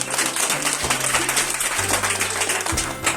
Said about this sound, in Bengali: তাদের সবার জন্য একটা করতালি হোক